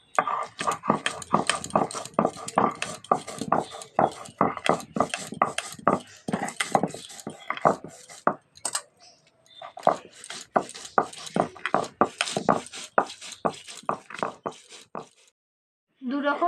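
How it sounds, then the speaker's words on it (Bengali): Mustard and poppy seeds are ground together for a ridge gourd dish, a quick rhythmic run of scraping, knocking strokes close by that pauses briefly partway through and again near the end. "আবার বেটে নেবো সব একসাথে"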